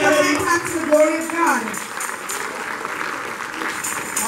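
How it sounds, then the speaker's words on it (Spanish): Congregation applauding in a church service, clapping rising as a voice finishes speaking, then a steady wash of hands clapping for a few seconds. "Den un aplauso a la gloria de Dios."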